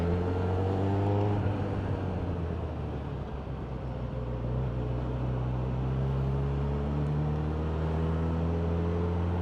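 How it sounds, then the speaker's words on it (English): Steady roar of road traffic passing on a warm day, a continuous loud engine and tyre drone with rising and falling tones from vehicles going by. "And there's a bumload of traffic."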